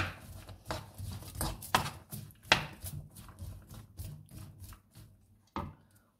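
Onions and mushrooms being stirred in a pan for a duck and mushroom pie, a run of irregular scraping and clattering strokes with bursts of sizzle, fairly close and alone with no talk.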